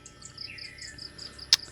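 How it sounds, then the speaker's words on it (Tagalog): Birds in a tree call with repeated short chirps and a brief rising whistle, fairly faint and steady, with one sharp louder chirp near the end over a low background hum. "So, ang maririnig ngayon is huni ng ibon. Yan, maraming huni ng ibon dyan, oh."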